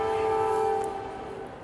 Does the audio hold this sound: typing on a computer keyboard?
no